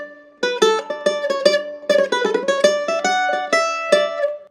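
A mandolin plays the second part of the fiddle tune Whiskey Before Breakfast, with bright picked notes and quick triplet runs in a lively rhythm, close and clear with no talking.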